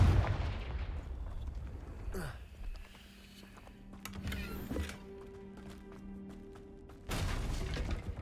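A Confringo fire spell fired in Hogwarts Legacy bursts with a loud whooshing blast and crackling impact, followed by lingering magical hum and a second sharp burst near the end, with no talking.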